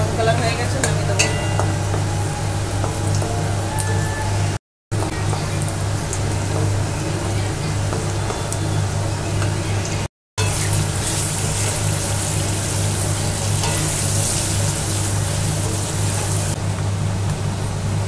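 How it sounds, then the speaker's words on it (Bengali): Potatoes fry in a wok with a constant sizzling hiss and occasional stirring noises, close and fairly loud. Someone talks intermittently over the frying. "আলু ভাজা হয়ে গেছে"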